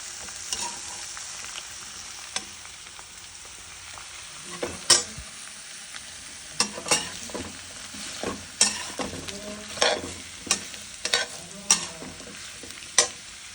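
Bottle gourd frying in ghee in a pan with a low continuous sizzle, broken by a series of sharp spatula scrapes and knocks that grow more frequent toward the end, close and without talk.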